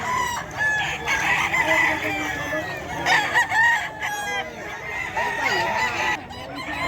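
Bulik roosters at a Bocaue chicken market crowing again and again in overlapping calls, with clucks and honking fowl around them, close and loud in a busy market din.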